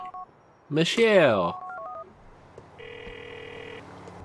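Phone in GTA IV dialing a contact from the phone book: a burst of keypad tones and beeps, then a steady electronic ringing tone under quiet game ambience, with a shouted voice over the dialing.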